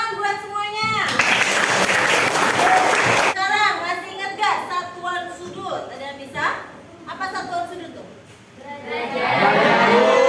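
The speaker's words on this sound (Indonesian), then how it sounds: "Tapi tepuk tangan buat semuanya." A school class applauds in one loud burst of clapping, with children's voices and chatter around it and a teacher talking before and after.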